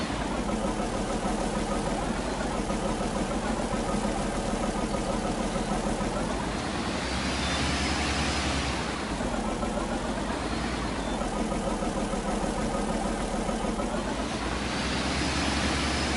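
A tractor engine in Farming Simulator 19 runs steadily with a continuous mid-low drone, swelling gently in loudness at regular intervals, with no talk.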